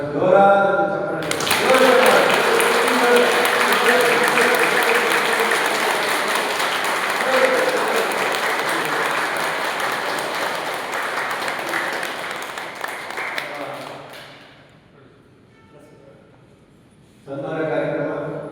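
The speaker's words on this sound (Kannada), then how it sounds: "ಹಾಗಾಗಿ ನಮ್ಮ ಜೋರಾದ ಚಪ್ಪಾಳೆ" A yoga class audience bursts into loud, sustained applause that swells quickly and carries on for over ten seconds before fading to near silence, after which speech resumes.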